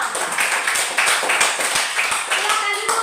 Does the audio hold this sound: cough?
no